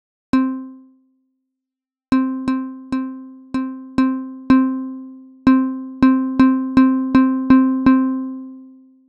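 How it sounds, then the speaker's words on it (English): A physical-modelling guitar voice from Logic Pro's Sculpture synth, its string excited by a pick-like strike object, plays about fourteen short plucked notes: one alone, then a steady run of clean, bright plucks with quick decay and no talk. "For this guitar sound, I would go for the strike object, which can simulate a guitar pick"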